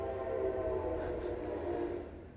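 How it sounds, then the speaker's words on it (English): A train passes close by, a steady, heavy rumble with a faint tonal hum that holds for about two seconds and then eases slightly at the end, with no voices. "So here comes the train."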